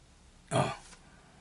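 One short, throaty cough bursts out close by in a quiet setting, a single rough expulsion lasting under half a second.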